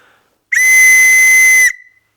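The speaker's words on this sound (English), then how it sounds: "The really cool thing about these is just how loud these whistles are." One long, piercing blast from a wooden whistle, very loud and steady, held for about a second before cutting off abruptly.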